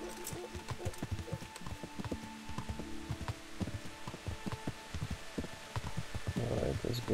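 Horse hooves clip-clop in steady rhythmic steps across Kingdom Come: Deliverance, moderately close, with a denser burst of noise near the end.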